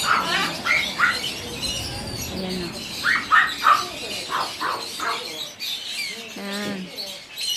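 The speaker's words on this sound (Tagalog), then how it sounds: "Ayan, mga ibon na medyo malaki-laki na" Large parrots and other birds in a garden aviary squawk, chirp and squeal in short bursts, some close and some farther off, with a steady background of mixed calls.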